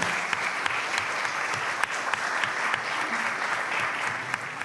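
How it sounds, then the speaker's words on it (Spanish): A crowd at a citizens' debate final applauds a young debater, a thick, continuous patter of many hands with occasional sharper claps standing out, steady and fairly full. "Un aplauso, por favor, para el joven."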